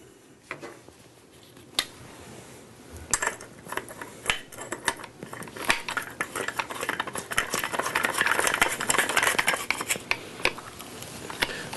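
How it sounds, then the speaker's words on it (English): Metallic clicks, taps and rattles of a cutting wheel and large back flange being fitted onto an angle grinder, sparse at first and then growing into busier, closer handling noise. "I'm going to use the big back flange, okay, so I can raise it forward, put that on the grinder"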